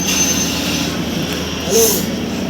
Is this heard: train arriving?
yes